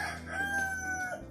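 A rooster gives one full cock-a-doodle-doo crow, loud and fairly close, a steady rising then held call lasting just over a second with no talking over it.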